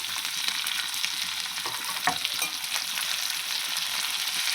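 Tomato sautéing in a pan for drumstick sambar with green chilli gives a steady, bright sizzle that runs unbroken throughout, with a few faint stirring scrapes and no voices.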